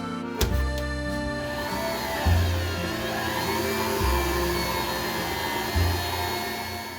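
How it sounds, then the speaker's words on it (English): A stand mixer whirs steadily while mixing cake batter in a home kitchen, its motor droning loud and close with soft periodic thumps from the bowl every couple of seconds. "The stand-up mixer does an excellent job mixing the cake batter."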